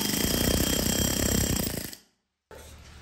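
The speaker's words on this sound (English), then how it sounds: "I'm gonna take the air chisel and drive it in like that." A loud, rapid pneumatic hammering from an air chisel driving an axle into a Club Car Precedent golf cart rattles steadily for about two seconds, cuts out to silence, then a quieter mechanical hum resumes.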